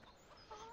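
Chickens clucking on a farm in Landwirtschafts Simulator 17, soft short clucks that grow slightly louder toward the end, quiet and alone.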